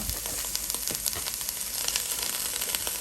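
Steady, bright sizzling of food frying in a hot pan, with crackles and pops throughout and no talking.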